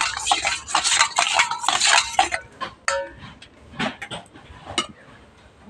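Flour dough is mixed with white oil in a bowl, a run of quick clinking and scraping strokes from a utensil against the bowl, busy at first and then sparser, with no talking.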